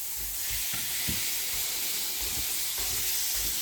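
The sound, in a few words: mince browning in a pan with onion and capsicum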